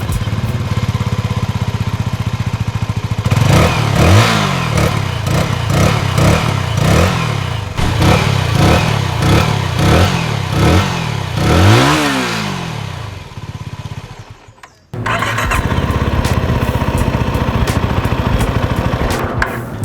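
A CFMOTO 250SR motorcycle engine cranks and fires, then revs repeatedly in rising surges before cutting out briefly and settling into a steady running rumble.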